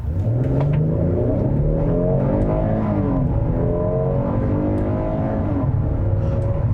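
A naturally aspirated SUV engine, either a 2020 Kia Telluride or Toyota Highlander, pulls hard from a standstill through an 8-speed automatic, its rising revving drone loud and steady for the whole stretch with no talking.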